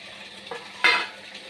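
Pieces of rui fish drop into a thin curry with data stems and potato in a pan: a soft clink, then a sharper wet splash and clatter, short and close, with no voices.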